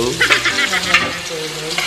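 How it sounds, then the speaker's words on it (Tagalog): Hotdogs sizzling and frying in a pan, a steady crackle with occasional scraping and stirring, close by and fairly loud throughout. "Nagluluto po siya ng hotdog sa kaserola."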